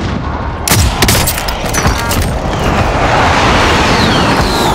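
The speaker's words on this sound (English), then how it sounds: "Airstrike target marked." Heavy airstrike explosions in a military video game boom and rumble loudly, with a cluster of sharp blasts early on followed by a dense, continuous roar of debris and rumbling.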